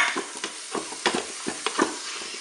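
Mushrooms hitting hot fat in a Cookeo pressure cooker, crackling and sizzling close by in a series of bursts as they are stirred in, with no voices.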